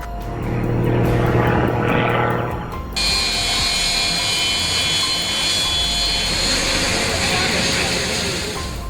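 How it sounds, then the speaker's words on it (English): An aerobatic aircraft screaming past low at full throttle near an airport, a loud sustained engine roar that swells then gives way to a steady high whine, with no talk heard. "just screamed past Tugela Airport at full throttle"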